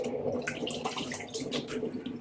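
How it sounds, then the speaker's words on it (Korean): Cool water splashes and trickles as a face is rinsed after steaming, a close, continuous wet sloshing with small drips and no talking. "저는 스팀을 하고 나서 좀 시원한 물로 물세안만 해줘요"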